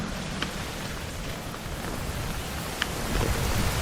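Light rain patters steadily on a tent while camping on Mount Empung in North Sulawesi, with low rumbles of thunder rolling underneath and a few sharp drop hits.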